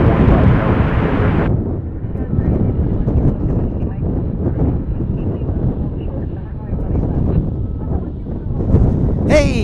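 Strong wind buffets the microphone at an airport plane-spotting spot at DFW International, a loud continuous roar with gusts throughout and a brief rising whine near the end.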